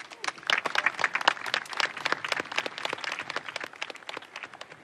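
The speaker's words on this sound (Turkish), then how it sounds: "Alkış lütfen." Audience applause in a Turkish comedy film, with dense, steady clapping from a crowd filling the whole stretch at a lively, even level.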